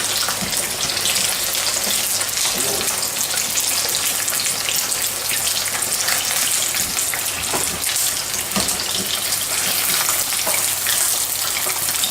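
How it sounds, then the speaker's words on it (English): Chicken wings deep frying in hot oil for Buffalo wings, a loud, steady, dense sizzle and bubbling that holds evenly throughout with no talking. "we're going to fry the rest of the wings off"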